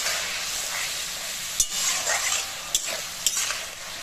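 Masala with a spoonful of sugar being stirred and fried in a pan for a pumpkin and fish-head curry, a steady loud sizzle with a few sharp spoon taps against the pan.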